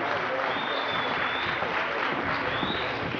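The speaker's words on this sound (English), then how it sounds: "Please, a round of applause for him." A crowd at a women's bikini competition applauds a contestant on stage, a steady, even wash of clapping from a sizeable audience with faint whistles over it.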